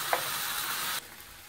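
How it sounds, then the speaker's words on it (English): Bacon sizzles steadily in a frying pan with a bright crackling hiss, then the sizzle drops away suddenly partway through. "Hear that bacon sizzling."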